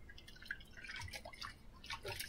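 Yarn is submerged and squished in a basin of lukewarm soapy water, producing faint, irregular drips and soft liquid splashes close by with no talking.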